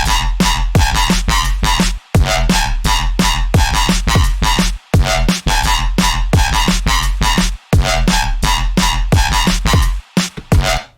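Jump-up drum and bass track with a heavy FM synth bass and drums: loud, dense and relentless, punchy kicks and snares driving a constantly pulsing, wobbling bass, with brief drop-outs between phrases.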